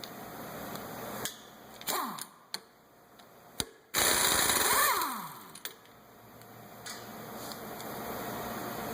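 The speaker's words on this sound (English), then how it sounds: "I'll use an impact gun." On a 2005 Chevrolet Equinox, an impact gun loosens a wheel hub nut in a series of loud, close bursts of hammering. The bursts are separated by short pauses and followed by a longer run of the tool that gradually winds down.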